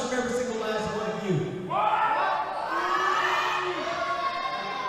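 A wrestling crowd at an Imperial Wrestling Entertainment fan night in Houghton Lake jeers and shouts, a loud continuous mass of voices with rising swells of booing and yelling that drown out any single speaker.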